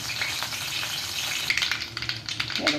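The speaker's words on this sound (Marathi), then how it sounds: "तेल तापलेलं आहे त्यामध्ये जिरं मोहरी घातली आणि कांदा घालायचा." Cumin, mustard seeds and chopped onion fry in hot oil with a steady, loud sizzle and spattering crackle; sharper pops and stirring scrapes build toward the end, with no voices present.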